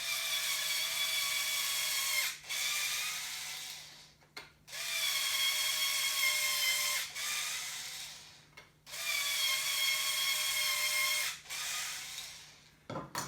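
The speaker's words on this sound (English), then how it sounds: "So I'm just going to drill those through" A power drill bores bolt holes through parts of a 3D printer bed and Z-axis assembly, running in three sustained bursts with brief pauses between, steady and close with a constant low hum underneath.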